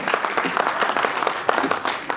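Audience at the CDC Zimbabwe 2024 National Laboratory Awards clapping for a speaker, a brief burst of mixed claps heard close and fairly loud for about two seconds.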